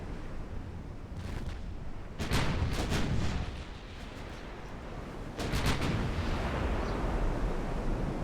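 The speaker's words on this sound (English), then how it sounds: "Just giving us those broadsides." Naval gun broadsides from warships in Ultimate Admiral Dreadnoughts, booming in two heavy rolling volleys of overlapping blasts, with a rumbling battle backdrop between them.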